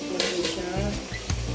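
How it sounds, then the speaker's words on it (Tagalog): A pot of bottle gourd dish bubbles and simmers on the stove, with soft bursts and a low rumble under a faint voice, plus a light clink of a lid or utensil. "Nakukula na siya."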